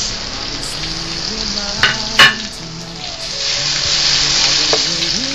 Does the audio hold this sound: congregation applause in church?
no